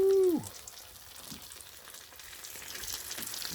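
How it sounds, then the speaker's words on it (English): Small crappie fish fry in a pot of hot grease, a steady crackling sizzle running throughout after a brief tonal ring at the very start, moderately close with no voices. "it don't take long for these crappie to cook"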